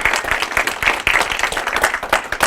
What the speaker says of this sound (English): if we can give him a round of applause for taking some time